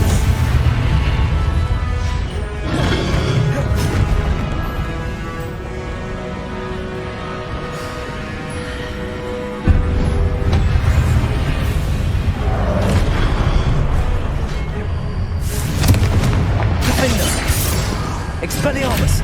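Confringo spell blasts in Hogwarts Legacy, a loud run of booming, crashing impacts with clattering debris over a sustained roar, broken by a sharp burst near the midpoint and a flurry of bright crashes toward the end.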